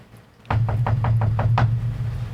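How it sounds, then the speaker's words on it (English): A bassy, reverberant knock on a door, seven quick raps in a steady run over a low resonant hum. "it's a weird knock. It's got like Some bass to it."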